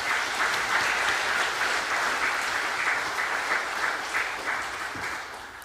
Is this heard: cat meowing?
no